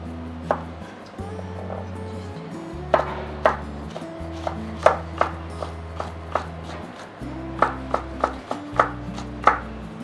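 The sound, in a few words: knife chopping chili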